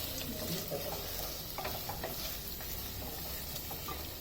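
Garlic frying in a pan for vegetable biryani, a steady close sizzle with occasional stirring scrapes throughout, no talk.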